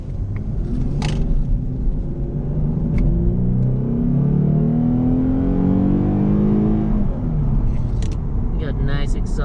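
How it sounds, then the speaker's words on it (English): Steady engine rumble of a 2015 Lexus IS350 AWD rising in pitch as it accelerates, deep exhaust drone filling the cabin, with a few faint clicks. "Got nice exhaust sound there."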